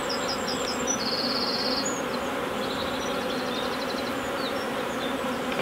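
Honeybees buzz continuously around an open hive, with a dense, steady drone and a few individual bees passing close by. No one speaks.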